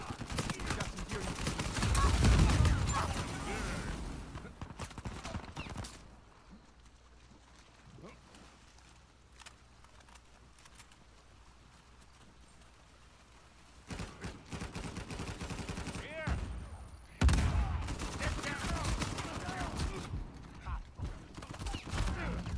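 Gunfire in Uncharted 4, bursts of shots in loud clusters at the start and again later, separated by a quieter stretch of game ambience, with a player talking over the action.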